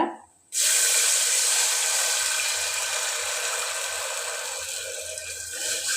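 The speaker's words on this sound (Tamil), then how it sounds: "நாலு டம்ளர் தண்ணி சேர்த்தாச்சு" Water gushes into a cooking pot for rice upma, starting abruptly after a brief quiet moment and then pouring in a loud, steady splashing stream close by that slowly eases.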